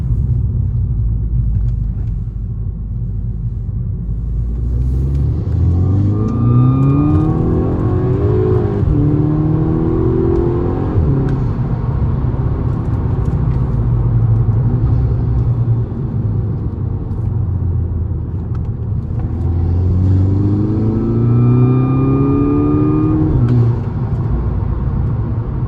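A VW Golf MK6 GTI with a boost leak and a faulty diverter valve accelerates hard under steady in-cabin engine rumble, its rising revving sweeps climbing twice through the gears with whirring turbo tones, loud and continuous throughout.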